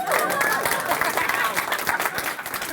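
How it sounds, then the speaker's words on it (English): Audience clapping at a speaker showcase, a close, dense burst of applause with individual claps audible, with voices mixed in throughout and gradually loosening toward the end. "Wait, y'all clap for that."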